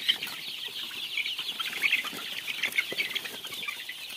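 Chickens on a local poultry farm cluck and squawk in a busy, overlapping chorus, with occasional wing flaps and no talking.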